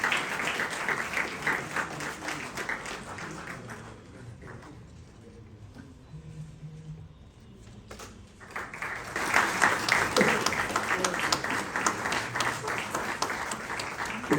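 An audience at a book launch ceremony claps steadily. The applause thins to a quieter stretch in the middle, then swells again louder toward the end.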